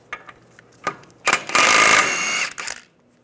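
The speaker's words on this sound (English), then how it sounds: "We're gonna take the axle nut off. Use a 30 millimeter socket." A ratchet fitted with a 30 mm 12-point socket loosens the front axle nut on a 1998-2010 Volkswagen Beetle, giving a few sharp clicks and then a dense burst of rapid ratcheting, close and loud, with no talk.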